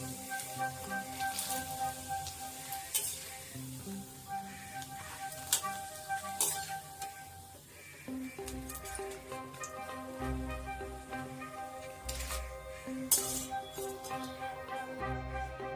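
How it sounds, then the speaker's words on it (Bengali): Papad frying in a pan for a puja meal gives a soft, crackling sizzle with scattered pops and bubbling bursts, quiet and continuous with no speech. "একটু পাঁপড় ভেজে নিচ্ছি।"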